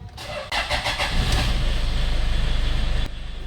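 A Toyota Innova with a stalling problem starts on one click: a short cranking burst catches almost at once and settles into a steady, pulsing idle, loud and close, with no talk over it.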